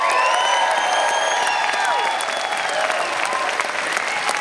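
A concert audience at the Vogue Theatre in Vancouver applauds and cheers loudly and continuously, dense clapping with a few shouts and whoops rising above it.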